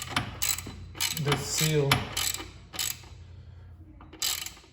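A ratchet clicks in short bursts while valve cover bolts on an Acura TSX are tightened in a crosswise pattern, close and crisp, with brief pauses between runs and a few spoken words.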